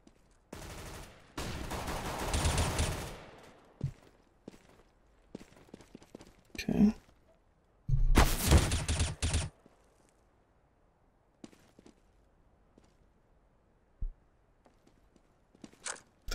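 Counter-Strike: Global Offensive gunfire, sharp bursts of automatic fire and single shots scattered between quiet stretches, with footsteps and other game sounds.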